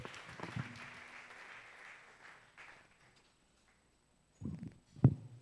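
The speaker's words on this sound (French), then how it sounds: "Acclame très très fort" A church congregation applauds during a fasting and prayer service, with a fairly quiet burst of clapping that fades out over a few seconds, then a pause broken by a couple of brief thumps.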